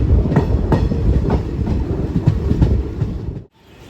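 A passenger train near Manamadurai, India, rumbles loudly along the rails with rhythmic clickety-clack beats from the wheels, heard up close from inside the coach and ending abruptly.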